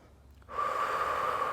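A yoga instructor breathes out in one steady, fairly loud exhale during a prenatal balance flow. The breath follows a short quiet pause and has no talk over it.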